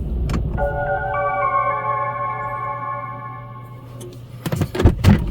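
Car with a newly replaced, upgraded battery being switched off and started again, a steady idling hum with tonal whine cutting out, then a short burst of cranking and mechanical clatter near the end; no voices.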